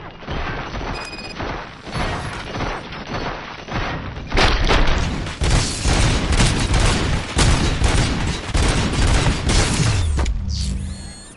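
Loud, dense RoboCop: Rogue City gunfire, a barrage of overlapping shots mixed with heavy booms and thuds that intensifies midway and stays continuous and close for most of the stretch.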